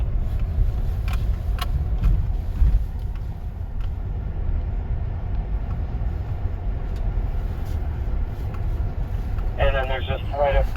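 A car drives a mountain road toward Reche Peak while being shifted into four-wheel drive, a steady low engine and road rumble throughout with someone talking over it and some rattling.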